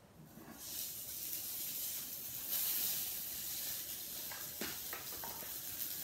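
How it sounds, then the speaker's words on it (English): Blintzes fry in a hot pan with a steady, soft sizzling hiss that runs throughout, with a few faint clicks and taps near the end and no talking. "So I have a sizzling frying pan."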